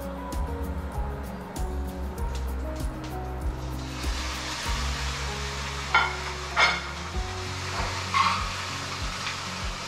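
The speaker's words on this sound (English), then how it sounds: "So we're going to sear for about 2 minutes on each side." A large sous-vide chuck steak sears in a hot pan, a steady low sizzle with scattered clanks and scrapes, a few sharper knocks near the end.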